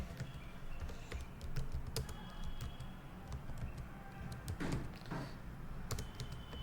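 Quiet keystrokes patter on a computer keyboard in an irregular run of light clicks, close but faint, with no talking over them.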